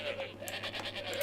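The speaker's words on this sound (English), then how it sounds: "these are all the sheep I managed to breed up to normal" Bred sheep in a video game bleat in a steady run of overlapping, fairly faint calls, with a soft background hum and no talking.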